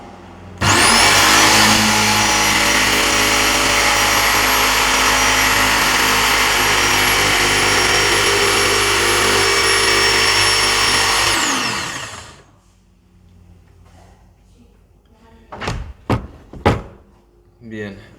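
Jigsaw cutting curves in a clamped piece of wood, loud high-pitched buzzing whine held steady for about eleven seconds, then stopping, followed by a few sharp knocks.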